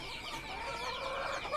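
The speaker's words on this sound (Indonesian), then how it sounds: "Ini ayam" KUB chickens on an Indonesian poultry farm cluck steadily in a dense, continuous flock chorus, fairly close and constant throughout with no voices.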